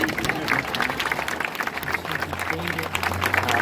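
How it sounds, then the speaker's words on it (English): An outdoor audience at a Toronto Pride flag raising claps in a continuous crackle of applause for a few seconds, with voices mixed into the crowd noise. "Round of applause for that."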